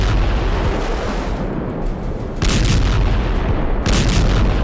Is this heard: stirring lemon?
no